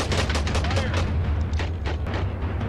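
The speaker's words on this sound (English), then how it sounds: "Starting to fire canister over there." Artillery firing canister shot in a Zulu War battle game, a rapid rattling barrage of overlapping gunfire and booms, loud and continuous, with a voice talking over it.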